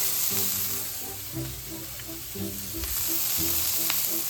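Chopped onion and garlic sizzle steadily in a hot pan over medium heat for an apricot onion pan sauce for chicken, giving a continuous crackling hiss. Soft clinks and scraping stir sounds come through, and no one speaks.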